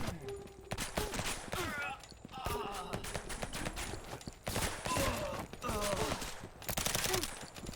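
A machine gun firing in the game Suit for Hire, bursts of rapid shots in uneven clusters, with someone talking over much of the shooting.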